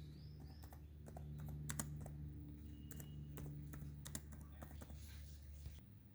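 Someone types remarks on a computer keyboard, producing quick irregular clicks and taps at close range over a low steady room hum for several seconds.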